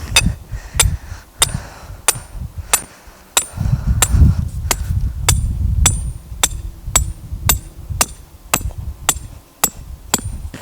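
A steel rebar peg is hammered into garden soil to anchor a poly low-tunnel, with about seventeen sharp, evenly spaced metallic strikes ringing out close and loud against a low rumbling background.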